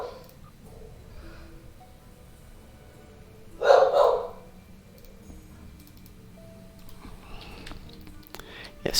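A dog gives a short burst of two or three barks in a room, moderately close, brief against low background noise with faint household sounds around it.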